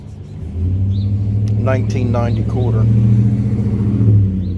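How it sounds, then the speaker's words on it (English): Steady low rumble of passing road traffic runs throughout, with someone talking over it at close range. "Sorry about the road noise"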